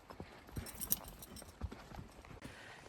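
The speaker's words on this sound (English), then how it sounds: "My mom's horse is leading the way" Faint hoofbeats of a horse plodding along a mountain trail at a walking pace, soft irregular clops under a low outdoor background.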